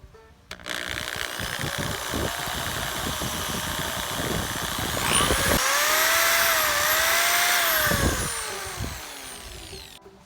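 A power drill boring a hole in a large piece of wood whirs steadily, its pitch rising as the motor spins up and bites in, with rough grinding and clattering throughout before winding down.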